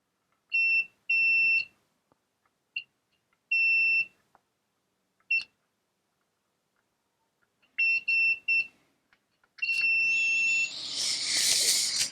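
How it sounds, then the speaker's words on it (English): A continuity tester beeps on soldered wires during a Yamaha SY85 power supply repair, short sharp tones in irregular bursts, then a longer beep into a burst of hiss. "if I put my continuity tester on each one of those,"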